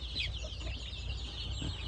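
Chickens clucking in a shed holding around 160 birds, a dense close chorus of overlapping clucks and soft squawks over a steady low hum.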